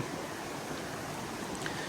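Cold, knee-deep river water flows steadily around an angler wading in a trout stream, a soft continuous rushing wash that stays faint and even throughout.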